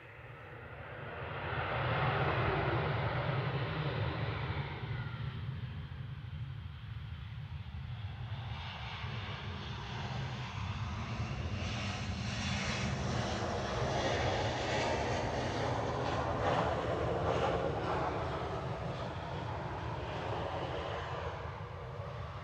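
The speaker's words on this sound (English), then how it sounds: "We've got a very short blast from the reverse thrusters" An eight-year-old Airbus A321 landing at Manchester Airport, its engines swelling into a long, steady roar of reverse thrust, heard from a distance and sustained throughout.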